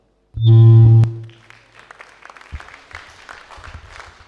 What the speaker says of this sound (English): Round of applause for the third speaker of Busu Secondary, Kate Mon